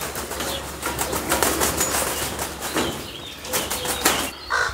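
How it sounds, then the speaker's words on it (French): Pet crows flap their wings close by in a garden beside a bonsai greenhouse, a few soft, uneven bursts of feathery wingbeats over a steady outdoor hum. "Alors mes corbeaux qui sont aussi à côté"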